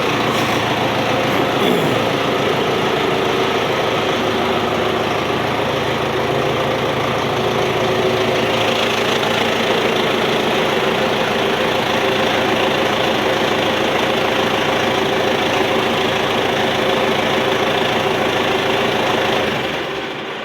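A heavy diesel tractor engine idles steadily and loudly up close, with a constant low rumble and rattle that cuts off abruptly at the end.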